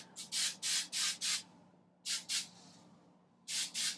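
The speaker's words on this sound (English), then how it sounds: "Just lightly spray it because I don't like hard hair at the top of my head." Short bursts of hairspray hissing from a can onto hair: a run of four quick sprays, a pause, two more, then another pair, close and fairly loud.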